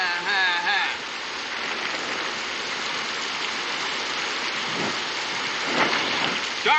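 Steady rain falls outdoors on an old western homestead, a continuous hiss with brief voices and a rumble near the end.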